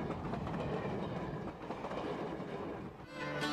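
A vintage passenger train of the Grand Canyon Railway, running from Williams, Arizona toward the canyon, rumbles steadily along the track with a continuous rolling clatter and no voices.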